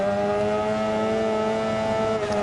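A racing motorcycle engine in the video game Ride 4 holds a loud, sustained high-pitched whine, revving steadily through an endurance race with no talk over it.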